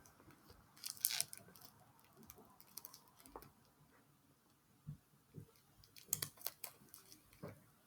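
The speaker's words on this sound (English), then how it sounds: "So we are snipping the plasticine wrapping and not the deck itself or the box itself." Scissors snip through the plastic wrapping on a Visionary Woman Tarot deck, giving a handful of sharp, crinkly cuts and crunches spaced irregularly, close and fairly quiet, with no one talking.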